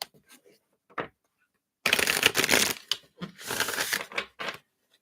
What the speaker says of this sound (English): Gotta shuffle.